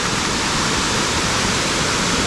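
Loud, steady rush of water at Walt Disney World, a continuous broadband roar like a fountain or waterfall heard up close without pause or talking.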